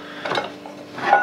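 Myron Cook HE 912 cast iron frying pan, 22 cm, lifted off a stovetop with a couple of light metallic clanks and scrapes, close and moderately quiet.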